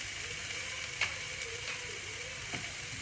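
Curry spice and mustard seeds sizzle steadily in a hot pan, a constant close frying hiss with a couple of faint pops and clicks, no voices.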